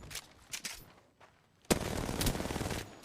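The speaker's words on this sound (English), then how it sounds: "They're shooting at me." Video game gunfire crackles in short bursts, then breaks into a sustained loud rattle of rapid automatic shots with no talk over it.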